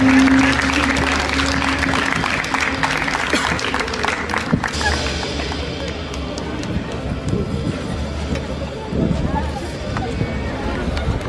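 Crowd applause for a male contestant at the Rey México 2023 regional-costume pageant runway, a steady, loud wash of clapping that carries through the whole stretch with mixed voices and hall noise underneath.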